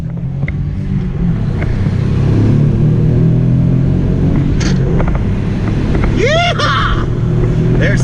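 Turbocharged Toyota 4Runner with about 300,000 miles running roughly 7 pounds of boost, its engine droning loud and steady as it accelerates up through the speeds, with a brief high whistling whine near the end.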